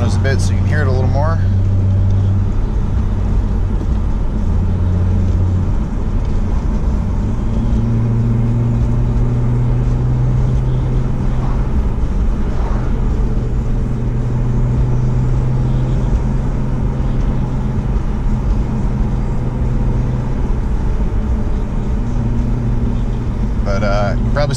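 BMW E36 M3 engine droning from inside the car on the move along a slow road, a steady, close hum that shifts gently in pitch while someone talks over it most of the time.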